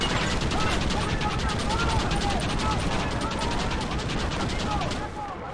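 Dense, continuous gunfire rattles through a battle in Red Dead Redemption, loud, rapid overlapping shots with no break, while voices shout underneath.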